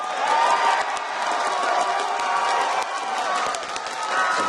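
An arena crowd at a League of Legends world championship quarterfinal cheers and shouts, a busy, rolling roar with scattered claps and whoops, swelling and dipping.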